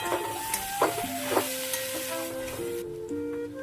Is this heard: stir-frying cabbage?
yes